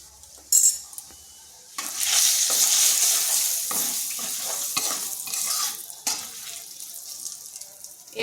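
Turmeric and Kashmiri chilli powder hitting hot oil, a bright hissing sizzle that swells after a brief sharp clatter, with scraping stirs and shifting bursts close by.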